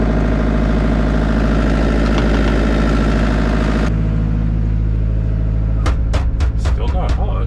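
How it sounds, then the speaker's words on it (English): A Cat 307SSR excavator's diesel engine idles with a loud, steady low rumble throughout, joined near the end by several sharp metallic knocks. "Mind you, I'm not working the machine, it's just idling here, so."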